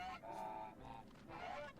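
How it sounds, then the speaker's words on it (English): Honking, goose-like bird calls in Final Fantasy XIV game ambience, a few drawn-out cries repeating over about two seconds, fairly faint with no talking. "God, I hear birds."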